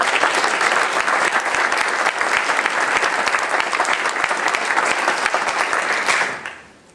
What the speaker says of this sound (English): So let's give these people a round of applause.